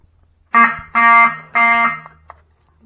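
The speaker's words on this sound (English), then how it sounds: "You can see, I've got an alarm." A fire alarm sounds during a test of a building's fire alarm system: three loud, harsh buzzing tones, the first short and the next two longer, close by and with no talking.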